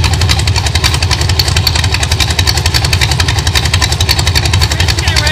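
A 1933 Plymouth street rod engine runs loud and close at a steady, lumpy idle, its rapid regular pulses continuing without pause for the whole stretch.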